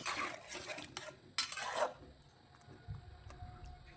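Metal utensils clatter and scrape against a cooking pot as food is stirred, several sharp clinks in the first half giving way to softer scraping, close and fairly quiet.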